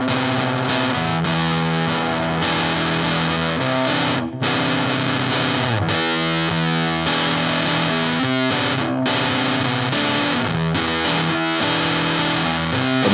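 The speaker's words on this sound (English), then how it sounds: "Let's turn it on with the initial fuzz sound" An electric guitar runs through a fuzz pedal with the gain backed off slightly from full, giving a thick, saturated, continuously buzzing tone. Sustained chords and riffs play loud and close for the whole stretch, with no talking.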